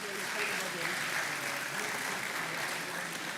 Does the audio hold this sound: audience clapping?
yes